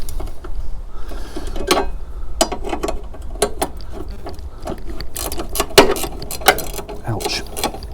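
A ratchet undoes the 10mm bolts holding a bracket on a salvaged Fiat 500 under repair, giving irregular clicking bursts and metallic taps close up, with faint workshop noise behind.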